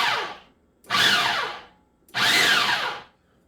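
A food processor pulses a pie crust mixture for an apple pie in three loud motor bursts of about a second each, separated by short quiet gaps.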